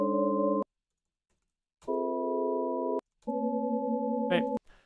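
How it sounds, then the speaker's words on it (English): Three sustained electronic tones, each a sum of eight steady sine waves, sound in turn with silent gaps, followed by a short chirp and click. "the sound seems to be a centered sum of sine waves"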